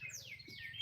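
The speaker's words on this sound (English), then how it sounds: "you can hear the birds back here. It's very peaceful" Birds chirping outdoors near a railroad, a quick faint pair of high sweeping tweets against quiet background.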